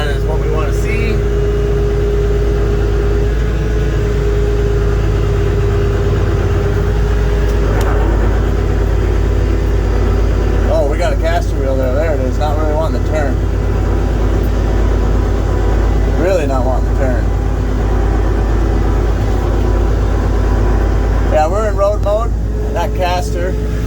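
A vehicle engine runs steadily as it pulls forward in gear, a loud constant low hum throughout, with a person talking over it at times.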